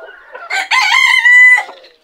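A mottled frizzle Cochin bantam rooster lets out one loud, close crow that rises and holds steady, with soft clucking just before and trailing off after it.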